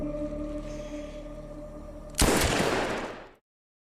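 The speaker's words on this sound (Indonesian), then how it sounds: "suara tembakan pun terdengar sampai ke mansion" Gunfire in a film scene bursts in as one sharp loud blast and its ringing decay, cutting through a steady low hum before everything falls silent.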